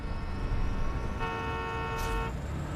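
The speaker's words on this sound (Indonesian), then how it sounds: "Mutan itu terus membunyikan sirine agar Walter menyingkir." Truck horn blaring in the 2009 horror film Wrong Turn 3, a steady harmonic tone entering midway and holding for about a second over a dense rumbling background, fairly loud and close.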